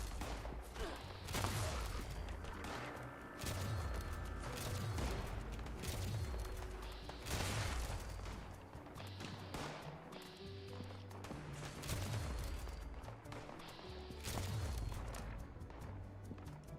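A single-shot weapon firing in Fallout 76, several separate blasts roughly every two seconds with heavy low booms, mixed with game sounds and faint talk.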